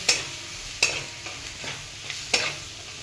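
A spoon scrapes and taps through noodles in a pan as Maggi masala is mixed in, giving several sharp, close clinks at uneven intervals over a soft background sizzle.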